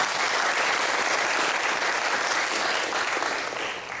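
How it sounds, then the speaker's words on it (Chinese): A large audience at a company annual meeting applauds loudly and continuously, a dense wash of clapping that holds steady before tapering slightly at the end. "我们再给他一个掌声"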